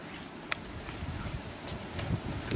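Wind buffets the microphone outdoors in a steady low rumble with faint rustling, no voices.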